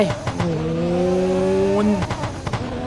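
Car in Roblox Midnight Racing accelerating hard through the gears, with a loud, close engine whine climbing steadily and then dropping sharply at a shift, followed by a few short knocks.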